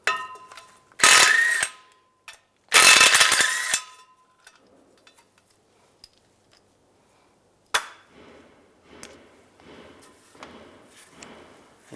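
A ratchet with an 11mm socket works loose the transfer case bolts on a 2007-2013 Chevrolet Silverado: two short bursts of rapid clicking, then scattered metallic taps and quieter handling noises.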